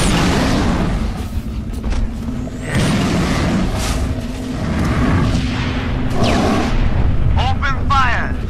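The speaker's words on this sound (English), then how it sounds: "Taking enemy fire." Enemy gunfire and heavy blasts from the Halo Reach Nightfall mission boom loudly and repeatedly in a dense, sustained barrage, with characters talking between the shots.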